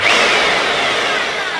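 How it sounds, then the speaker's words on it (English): A Titan TTB631SDS SDS-Plus hammer drill spins in drill-only mode with a steady, loud high whine and broad buzzing motor noise, close up, sustained throughout the short burst with no talking. "Now I'm going to want this on drill function, so this is pointing forwards to the drill side."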